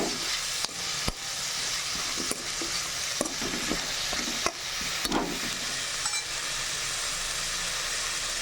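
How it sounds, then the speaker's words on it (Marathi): Brinjal with green chillies fries in a pan, a dry dish of aubergine and chilli. A steady broad sizzle runs throughout, broken by scattered sharp clicks and stirring knocks, with no voices. "त्याला फ्राय होऊ देते"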